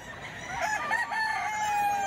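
Several roosters crow at a busy tiangge market with many chickens for sale, their long, overlapping calls rising over a low background murmur and close and fairly loud throughout.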